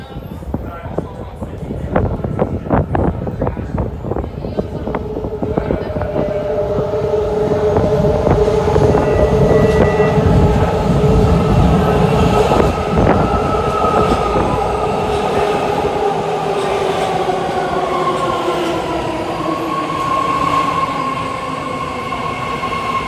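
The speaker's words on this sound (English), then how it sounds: "fleet of the future Red Line Millbrae Train departing platform number 1 at Powell BART Station" A new ten-car, three-door fleet-of-the-future BART Red Line train to Millbrae pulls out from platform 1 at Powell Street station underground, loud and close, clattering over the rails as a rising whine climbs then fades, with announcements and voices under it.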